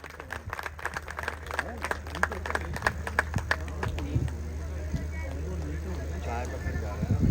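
A crowd claps at the opening of a cattle farm, the claps coming quick and uneven at first and then thinning out beneath chatter and background voices.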